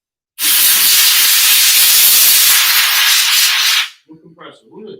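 A new air compressor lets out one loud, close burst of hissing air lasting about three and a half seconds, then cuts off abruptly, followed by brief softer noises.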